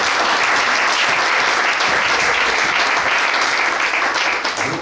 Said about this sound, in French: Acclamons le Seigneur pour cette parole.